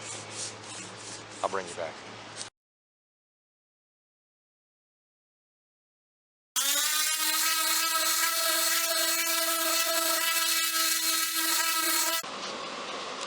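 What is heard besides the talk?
sanding a wooden mid-century chest of drawers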